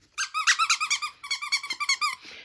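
A squeaky dog toy, played with by a Scottish terrier, gives a rapid run of about fifteen loud close squeaks in two bursts, then a short soft rustle.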